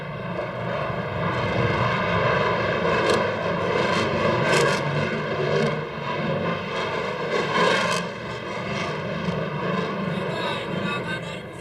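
An Indonesian Air Force F-16 fighter jet maneuvering over Jakarta, heard as a loud, steady broadband roar that swells slightly as it passes overhead.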